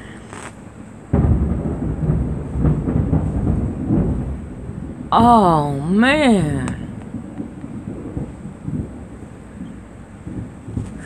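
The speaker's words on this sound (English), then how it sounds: "That's thunder." Thunder rumbling outside during a storm, a loud low roll heard under a woman's speech, while a sewing machine whirs briefly in the middle.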